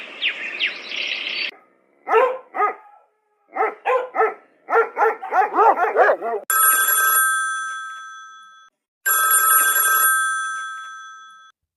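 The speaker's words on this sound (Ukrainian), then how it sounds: "лаю собак, дзвін будильнику" A dog barks in several bursts, followed by two long, loud ringing peals of an alarm clock.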